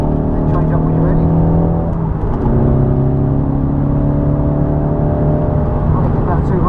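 A car on the Snetterton race circuit accelerates out of a corner, its engine droning loud and close with rising, sustained harmonic tones while an instructor talks over it.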